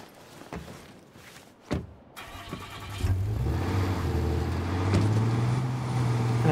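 A car in the zombie survival game State of Decay 2 starts with a few thuds and a door-like clunk, then its engine settles into a steady, close, rising drone as it pulls away and drives.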